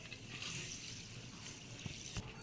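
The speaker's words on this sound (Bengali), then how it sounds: "সিদ্ধ চাল দিয়ে বানাবো আজকে ইডলিটা তো জল দিয়ে ধুয়ে ভালো করে ভিজিয়ে রাখবো" Ration parboiled rice is rinsed with water for idli batter, a soft close wash of swishing and trickling water with a couple of small knocks against the container, no speech.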